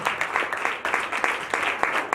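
A church congregation claps during a fiery deliverance sermon, a steady run of quick, loud overlapping claps close by for the whole stretch, with no speech over it.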